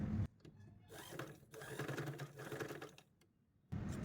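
A sewing machine stitches a dress, running in a steady whirring burst for a few seconds between short pauses, close and fairly quiet, with no talking.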